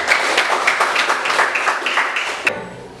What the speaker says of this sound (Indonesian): Tepuk tangan dulu, Bapak.